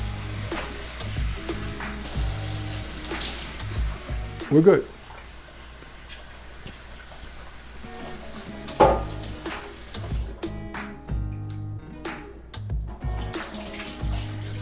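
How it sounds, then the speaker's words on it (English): Tap water runs into a pot as potatoes are rinsed at a kitchen sink, a steady splashing rush with brief louder splashes, and a voice speaks briefly over it. "Again, all we're doing is washing the potatoes off, getting some of that starch off the potatoes."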